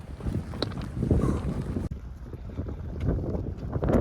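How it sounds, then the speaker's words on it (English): Strong wind on an open mountain hike in the Saskatchewan Glacier Basin off the Icefields Parkway near Banff, buffeting the microphone in a loud, continuous rumbling roar with gusty swells. "I'm getting hit in the face with wind"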